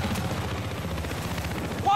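Gunfire rattles at vehicles during a Battlefield Hardline match, steady rapid bursts over a low rumbling backdrop, with a short sharp hit-marker chime at the end.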